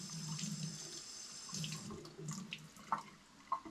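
A kitchen faucet runs steadily as food is rinsed under it, with faint close splashes and a couple of brief louder spatters near the end.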